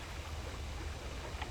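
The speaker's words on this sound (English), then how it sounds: "Please try to keep your engine noise to a minimum." Low, steady rumble of a fishing boat engine in the video game DREDGE, a faint continuous drone with no voices.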